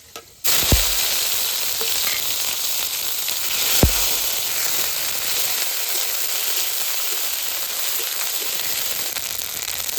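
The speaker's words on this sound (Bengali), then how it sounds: "আদা আর কাঁচা লঙ্কা একটু ভেজে নিয়েছি" Ginger and green chili paste frying in oil with dried red chili and five-spice seeds starts with a sudden loud sizzle that holds steady and bright, with a couple of sharp knocks against the pan.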